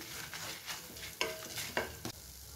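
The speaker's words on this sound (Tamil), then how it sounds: "இப்போ எல்லாத்தையும் நல்லா வறுத்து எடுத்துக்கலாங்க ஒரு அஞ்சு நிமிஷம் நல்லா வறுபடட்டும்" Goat liver gravy ingredients frying in a pan, a soft continuous sizzle broken by a few sharper spatula scrapes and knocks, close and fairly quiet, no talking.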